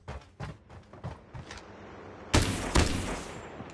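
Gunfire in the mobile shooter Call of Duty Mobile, with a few quick rattling bursts followed by two loud, close volleys after a brief lull.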